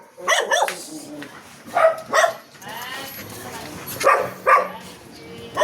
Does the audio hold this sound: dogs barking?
yes